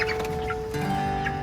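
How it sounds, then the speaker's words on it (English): Chickens in a farmhouse coop cluck softly and continuously nearby, with overlapping murmuring calls at dusk. "the chickens have gone up into the coop"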